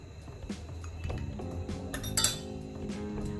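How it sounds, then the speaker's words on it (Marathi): Ingredients being pounded into a coarse thecha for zero-oil fasting cutlets, heard as repeated metallic clinks and knocks of a pestle against a metal vessel, close and steady with no talking. "हे मी याचा ठेचा करून घेते"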